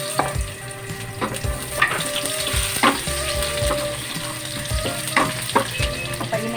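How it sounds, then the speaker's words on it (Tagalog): Garlic, onion and ginger sautéing in hot oil in a pan for squash in coconut milk, a loud steady sizzle with repeated stirring scrapes throughout, close up and alone. "umpisa na natin maggisa ng bawang, sibuyas at luya"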